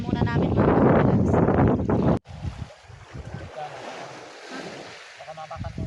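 Rough open sea surges in a loud, broad wash of waves and wind around a small fishing boat, with someone talking over it before the roar eases into a steadier rush.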